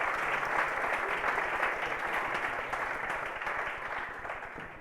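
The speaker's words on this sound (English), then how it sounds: "So can we give a big round of applause?" An audience at a Vue conference talk on the Quasar UI library gives the speaker a big round of applause, a steady wash of clapping that gradually fades toward the end.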